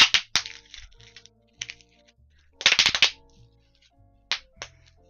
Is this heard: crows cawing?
no